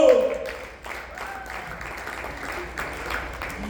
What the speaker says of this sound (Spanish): Dale palmas al Señor, hermano.